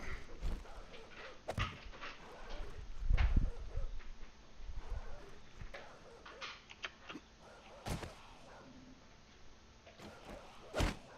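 Dogs in the 7 Days To Die zombie survival game, scattered barks, yips and whimpers at moderate distance amid thuds and game noise, with a deep boom near the middle and sharp cracks later.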